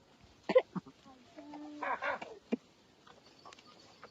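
Short clucking calls from chickens, a few bursts close by, with scuffling and a brief voice-like squawk between them.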